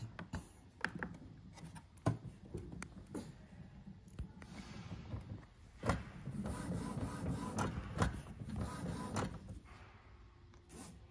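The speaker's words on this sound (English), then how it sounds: "after reset, the printer will do the automatic printer head cleaner" An Epson printer, reset after its 604 and 503 cartridges were refilled, runs its automatic print head cleaning with repeated mechanical clicks, knocks and whirring motor passes, close and fairly quiet, with no talk.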